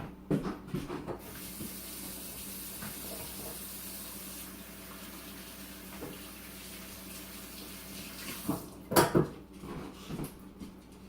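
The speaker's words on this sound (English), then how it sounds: "I'm going to quick wash my hands." Tap water runs steadily into a sink as hands are washed while packaging bulk meat in a kitchen, a continuous close hiss with a few brief splashes and clatters near the end.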